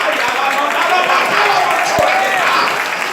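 A church congregation applauding for Jesus, steady crowd clapping mixed with a preacher's voice and cheering, loud and continuous.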